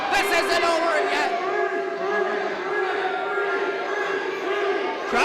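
Wrestling audience erupting after a near three-count kick-out, a loud sustained roar of shouts and cheers that swells and stays dense before easing slightly.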